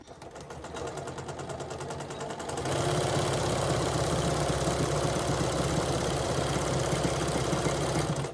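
Sewing machine stitching a purse seam with a back stitch, its needle running in a fast even rattle that starts softer and becomes louder and steadier after a brief pause, heard alone.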